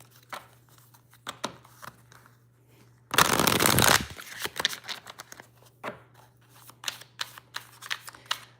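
Tarot cards being shuffled make one loud, dense riffling burst lasting about a second, close up, with quieter scattered card handling clicks before and after.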